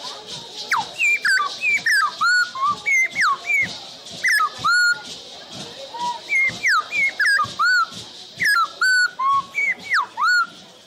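A handmade Indigenous whistle imitates thrush (sabiá) song in quick repeated chirping phrases, sliding up and down in pitch, close and fairly loud, with short gaps between bursts.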